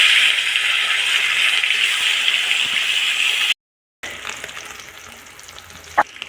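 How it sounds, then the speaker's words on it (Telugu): Dried fish frying in hot oil for a village-style egg and dried fish curry, giving a loud, steady broadband sizzle that stops briefly, then returns lighter with scattered crackles and a sharp pop near the end. "ఇప్పుడు ఎండి చేపలు వేసుకుందాం"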